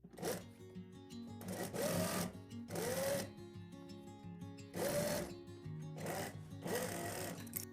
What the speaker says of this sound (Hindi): अब दूसरे पांचे की भी मैं सिलाई लगा लेता हूँ।